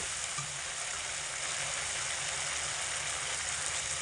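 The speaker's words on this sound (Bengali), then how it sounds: "ভিজিয়ে রাখা চাল আমি এখানে দিয়ে দিচ্ছি" Soaked rice goes into hot oil and sizzling spices for khichuri, giving a steady, close frying hiss that stays even throughout with no talk.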